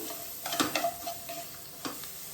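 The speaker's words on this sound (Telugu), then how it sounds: "కొంచెము ఆనియన్స్, ఈ 2 వేసుకొని బాగా ఫ్రై చేసుకోవాలి మనము." Chopped onions and garlic frying in butter in a pan for a cheese white sauce pasta, a soft sizzle broken by several quick scraping stirs of a spoon.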